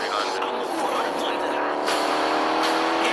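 Car driving in Fortnite, a steady engine drone with rising and falling revs and rolling tire noise, close and continuous, with voices chatting over it.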